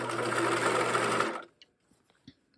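Sewing machine hemming a seam on a pair of shorts, running in one close, steady burst for over a second before stopping, followed by a few soft clicks and handling noises.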